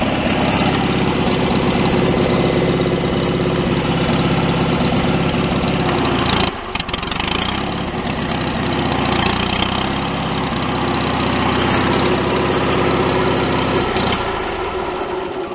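An engine idles steadily and loudly throughout, a continuous rumbling drone with a brief stutter partway through, running with its covers and seat removed.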